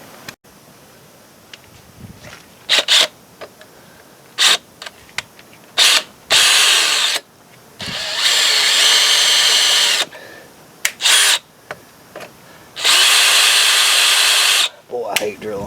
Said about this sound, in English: Boy, I hate drilling holes.